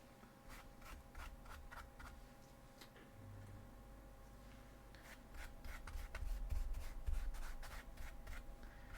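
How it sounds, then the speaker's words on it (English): A brush dabs and scrapes silver paint onto bolt gun parts, soft close ticking and rubbing strokes coming in irregular bursts over quiet room hum. "I decided to paint my bolt guns parts in this new silver that I got."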